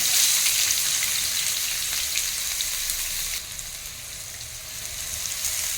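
Chopped onion frying in hot oil, a dense, even crackling sizzle close by that eases slightly partway through, heard alone without speech.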